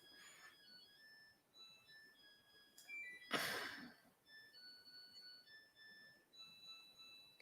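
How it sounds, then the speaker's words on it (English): Washing machine beeping in a room, a few short electronic tones in steady stepped patterns, fairly faint, with a brief louder burst of noise midway through. "Definitely hear the washer beeping"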